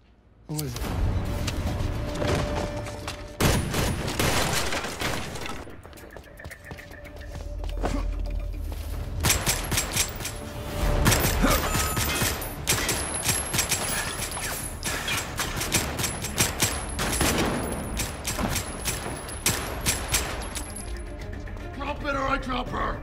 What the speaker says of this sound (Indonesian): mereka justru terlibat dalam adu tembak